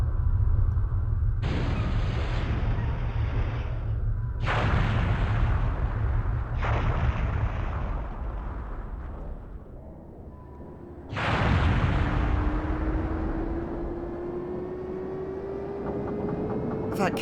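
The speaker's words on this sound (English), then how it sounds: "The explosion took out the whole area." Several deep, booming blasts of massive cannon shells in the video game Skies of Arcadia hit one after another, each followed by a rumbling roar, with a rising engine-like whine after the last big explosion.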